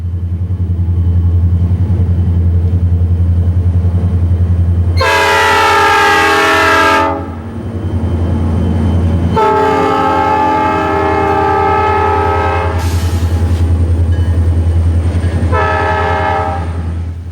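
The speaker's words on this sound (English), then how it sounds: "The westbound turn is caught before sunrise as it heads out Roosevelt Street." A westbound freight train rolls out along Roosevelt Street before sunrise, its engine rumbling loudly throughout while the locomotive horn sounds three times: one long blast, another long blast, then a shorter one.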